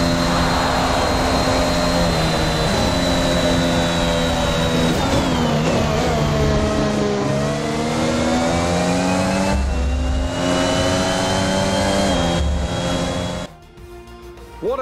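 Formula 1 car engine in F1 21 at the Zandvoort Dutch Grand Prix, a loud high-pitched whine climbing and dropping through gear shifts for a long stretch, then cutting off abruptly near the end.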